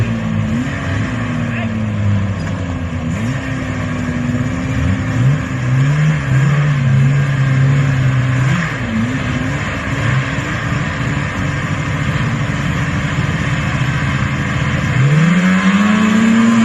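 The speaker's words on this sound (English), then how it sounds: "Got some grudge racing going on." Vintage snowmobiles grudge racing, engines droning and whining as they rise and fall in pitch through passes, with a loud rev sweeping upward near the end; a voice talks over it.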